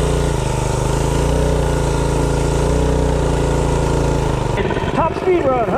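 A Predator 212 small gas engine with stock exhaust and muffler drones loudly and steadily nearby, then its pitch wavers and revs near the end as the throttle changes.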